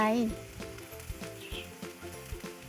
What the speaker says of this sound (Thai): ใช้เวลาผัดสักครู่หนึ่งเพื่อให้ข้าวโพดอ่อนสุก